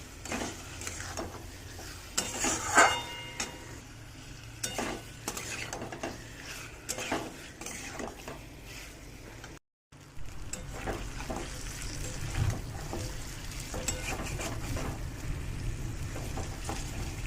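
Salt-and-turmeric-coated chicken pieces frying in a pan while being stirred, a steady close sizzle with scraping and clinks of a utensil against the pan, briefly cut to silence midway, then continuing.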